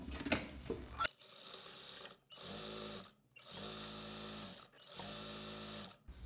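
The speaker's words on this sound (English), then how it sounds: "And now we'll be sewing the other edge all around." A sewing machine runs in three steady bursts of stitching along the edge of a dupatta, each run a few seconds long and separated by short pauses, with a brief rustle of cloth handling before the first burst.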